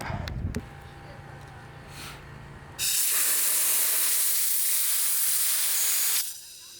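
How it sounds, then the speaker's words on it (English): Compressed air blasts from a nozzle while a KX450F dirt bike is being built, starting with brief hissing puffs and then a loud, steady close hiss lasting several seconds before cutting off. "Compressed air, that's all you need."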